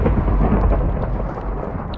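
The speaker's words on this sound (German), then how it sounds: "weil es dauernd gewittert" Thunderstorm in the Minecraft video game, with steady heavy rumbling and rain-like noise filling the whole stretch at a constant loud level, no voices present.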